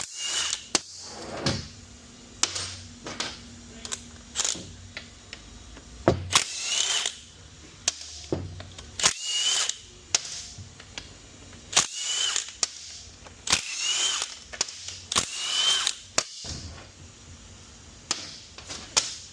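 A power tool removes the extension housing bolts on a 6L80E automatic transmission from a Chevrolet Silverado, in close, loud bursts of whirring and rattling with short pauses and metallic clanks between them.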